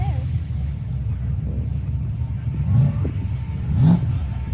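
A car engine rumbles steadily and revs up twice, with people talking over the low idling drone.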